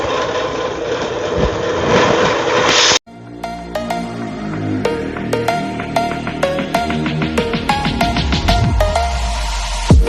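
Yamaha Raider 150 motorcycle engine idling: about three seconds of loud, rough broadband engine noise, then a steadier, close idle with regular pulsing beats and a few sharp clicks.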